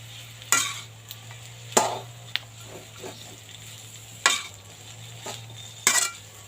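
Vegetables stir-fry with oyster sauce in a pan, a close sizzle punctuated by several loud clanging scrapes of a spatula against the metal pan at irregular intervals.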